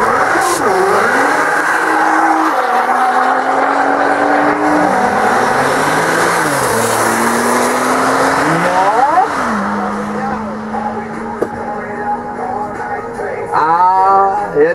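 A Porsche and a Nissan GT-R launching in a sprint race, loud engines revving hard through repeated rising gear pulls, a long accelerating roar that fades and then swells again at the end.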